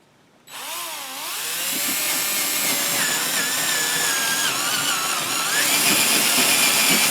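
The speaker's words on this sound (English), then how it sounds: "so I'll be boring a 1-inch hole" A power drill bores a 1-inch hole in a part for a studio-scale AT-ST model, starting abruptly and then holding a loud, steady, whining drone close up.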